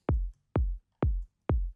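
Kick drum in a progressive house arrangement, four evenly spaced deep thumps in a steady four-on-the-floor pulse, each with a quick pitch drop and short decay, played alone and moderately loud.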